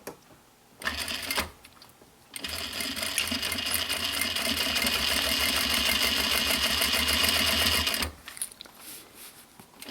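A sewing machine top stitches a recycled denim pouch through thick fabric layers. A short burst of stitching is followed by a pause, then a long, loud, rapid run that stops abruptly near the end.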